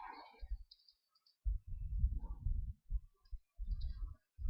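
Clicks from typing on a computer keyboard while building a WordPress theme by hand, in quick irregular bursts of keystrokes separated by short pauses, close and fairly quiet, with no speech.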